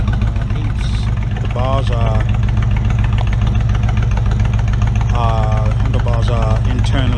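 A Honda VTX 1300C motorcycle idles with a steady, deep, close rumble that runs throughout. Someone talks intermittently over the engine.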